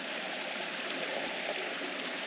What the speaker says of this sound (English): When we got some water flowing into this little